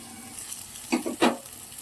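Bhetki fish fillets fry in a pan with a soft continuous sizzle, broken by two short utensil knocks or scrapes near the middle as the pieces are turned; no talking.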